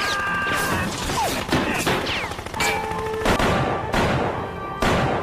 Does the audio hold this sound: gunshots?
yes